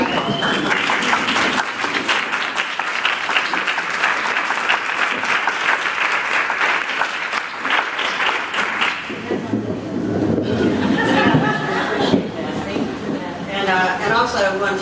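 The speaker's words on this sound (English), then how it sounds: "I'd really like for us all to stand up and give them a round of applause" An audience standing to give the training organizers a round of applause, loud dense clapping for about nine seconds that thins out into scattered claps and murmuring voices.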